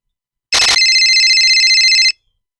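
A telephone rings loudly and close with a steady electronic trill that starts with a brief burst and holds for about a second and a half before cutting off unanswered, then silence.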